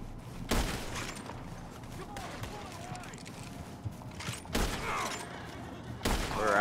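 Gunshots in the Red Dead Online video game, a few loud sharp cracks spaced across several seconds over a steady background of game ambience.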